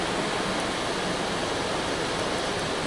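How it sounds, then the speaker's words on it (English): Rinse water from a Mark VII SoftWash XT car wash sprays steadily against a car, a dense even hiss and rush with no break, close and fairly loud, running on its own without any talk. "The water is just washing right off."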